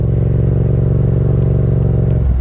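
A motorcycle engine idles and runs steadily up close, a continuous low rumbling throb with a brief shift near the end.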